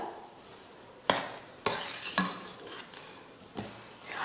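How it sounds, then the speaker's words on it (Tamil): A spoon scrapes and knocks through a sweet mixture in a metal pan, giving five or six distinct clinking strokes at an uneven pace over a quiet background. "சேர்த்துட்டு இதை கலந்துருவோம். நல்லா கலந்து விட்டுருங்க."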